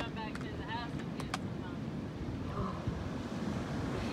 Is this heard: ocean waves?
yes